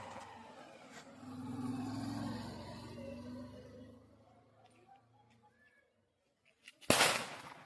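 Diwali firecracker going off as one sharp, loud bang near the end, after a stretch of quieter outdoor background with voices.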